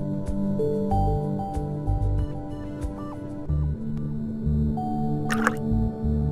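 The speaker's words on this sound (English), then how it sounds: "Now, wash the slides with water." Lab slides washed with water in a virtual lab simulation: intermittent synthetic dripping and squishy liquid effects over several seconds, with a brief bright splash near the end, all set over a continuous tonal background bed.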